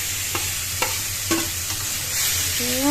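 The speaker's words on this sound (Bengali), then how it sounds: "এবার দিয়ে দিব টমেটো কুচি করা আর কাঁচামরিচ ফালি করে" Chopped tomato and sliced green chili fry in a pan for a noodle dish, giving a steady close sizzle with a few short stirring scrapes.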